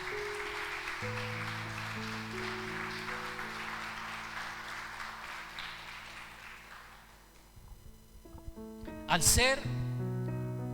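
Church congregation applauding during a sermon, a broad wash of clapping over sustained keyboard chords that fades out, followed by a brief loud burst near the end.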